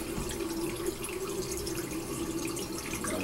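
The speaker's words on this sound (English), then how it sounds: "just wet your washcloth with cool water" Cool tap water runs steadily into a sink to wet a washcloth, a continuous close splashing stream with no pauses and no talking.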